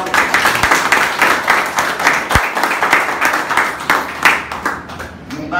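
A congregation at a worship gathering claps in steady rhythmic unison for God, with sharp, close, evenly spaced hand claps throughout and voices mixed in.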